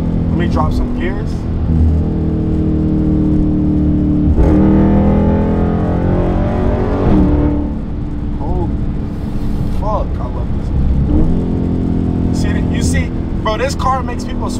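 A loud Dodge Charger Scat Pack 392 V8 engine with an aftermarket intake revs up and drops back repeatedly while downshifting late at night, its pitch climbing and falling, with a person talking over the roar.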